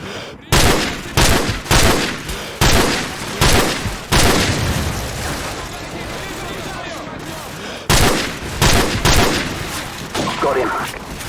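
Bursts of rapid automatic gunfire and booming shots in Call of Duty 4 Modern Warfare's campaign, loud and close, with repeated volleys separated by a sustained stretch of heavy combat noise and brief in-game voice chatter.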